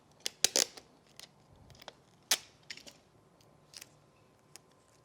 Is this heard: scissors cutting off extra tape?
yes